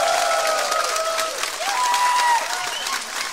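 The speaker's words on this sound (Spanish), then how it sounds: "Dale gracias a Dios con un fuerte aplauso." A church congregation at a men's retreat claps loudly and steadily, a dense, sustained wash of applause with a few voices and a sung tone carrying through it.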